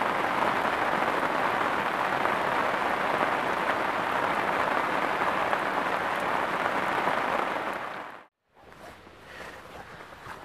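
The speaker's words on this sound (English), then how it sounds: "getting absolutely battered by this rain, and that is heavy." Heavy rain pours steadily onto a fen during a carp fishing session, a dense, loud hiss of drops that runs unbroken for about eight seconds before cutting out abruptly and returning softer.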